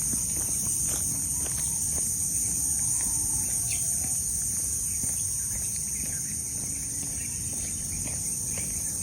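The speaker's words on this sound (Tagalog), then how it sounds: "Pero may mga kuliglig pa rin." Crickets chirp steadily through an early morning outdoors on a grassy exercise lap, a continuous high insect drone with scattered footsteps and faint birds underneath.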